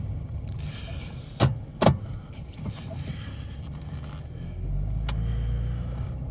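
A 2008 Dodge Charger engine idles and rumbles steadily as it drives down a street, with a couple of sharp clunks early on and a deeper low rumble building near the end.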